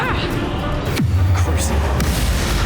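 Bombarda blasting spell in Hogwarts Legacy, a deep boom with a falling low tone that follows a shouted voice, with combat noise and talk continuing around it.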